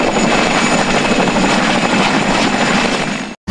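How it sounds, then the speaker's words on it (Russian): Helicopter flying over an airfield during an aviation sports air show, its loud, steady rotor and engine roar close and continuous throughout before cutting off abruptly at the end. "впервые летал на вертолете"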